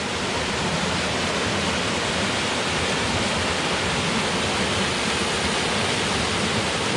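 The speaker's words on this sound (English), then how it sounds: "just a very, very pretty little waterfall here" A small waterfall on a creek gives a continuous, even rushing roar, close and steady for the whole stretch with no voices.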